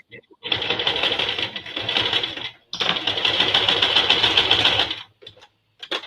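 A sewing machine stitches quilt fabric pieces cut from scraps, running close and loud in two long steady bursts with a brief stop between them, then a few short taps at the end.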